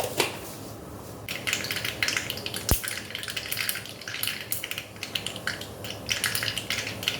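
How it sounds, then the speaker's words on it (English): Mustard seeds spluttering in hot oil while seasoning rasam, a dense crackling sizzle with bursts of popping that rise and fall throughout, close up, one sharp click partway through. "The mustard seeds are spluttering."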